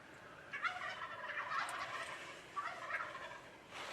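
Wild turkeys gobble in two bursts a short distance off, with hens calling between them over a quiet outdoor background.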